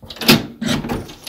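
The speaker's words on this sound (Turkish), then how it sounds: "Kapıyı açalım, kapıyı açalım." A door being opened indoors during a surprise visit, a short close clatter of handle and latch followed by a second knocking movement of the door, loud and brief.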